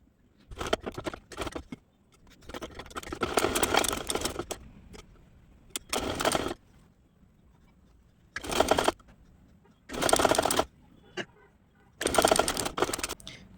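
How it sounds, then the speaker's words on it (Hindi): A sewing machine stitches a double-folded hem on a lehenga in repeated bursts of fast, close whirring, several runs separated by short pauses, with no talking over the stitching. "अब इसे इस तरह से आगे की तरफ डबल फोल्ड करके इस पर सिलाई मार देंगे और इसे पक्का कर देंगे।"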